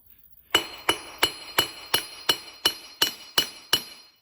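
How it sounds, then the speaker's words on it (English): Metal being hammered while forging a miniature poleaxe: ten sharp, ringing clinks at a steady, even rhythm, close and clear with short metallic decays and nothing else in the background. "make sure that the narrower side is the part that you're hammering"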